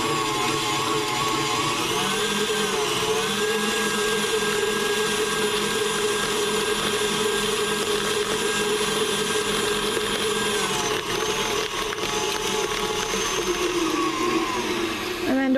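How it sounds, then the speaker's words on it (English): Kitchen blender whirring steadily at its highest speed, a loud continuous motor roar with a high whine that shifts slightly midway, running alone without pause. "you want to turn it on the highest speed of your blender possible"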